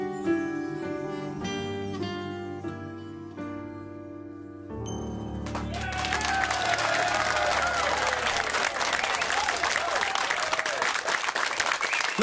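An audience bursts into loud, sustained applause with some cheering after a short passage of piano-like music, the clapping dense and continuous to the end.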